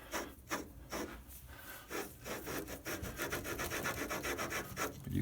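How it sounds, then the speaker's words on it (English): Metal is lapped back and forth against abrasive aluminum oxide lapping compound, producing a close, gritty rasping scrape in quick regular strokes that speed up toward the end, with no voices. "You can just basically run stuff like that back and forth with the lapping compound in there"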